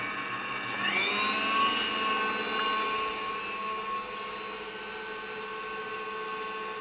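An electric mixer runs on whipped cream until it turns to butter: a steady, high whirring motor whine with a brief rise in pitch early on, continuous and fairly close, with no talk.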